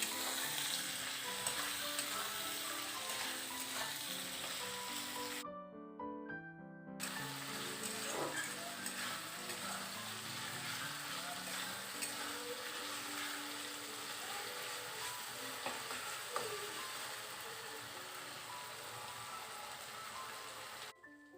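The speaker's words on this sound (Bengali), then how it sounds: "এবার আমি আবারও ভালো করে এই মশলাগুলোকে কষিয়ে নেব তেলের মধ্যে" Ginger-garlic paste, chopped tomato and spices sizzle and fry steadily in hot oil while being stirred for a home-style chicken kosha, with background music throughout and a brief gap near the start.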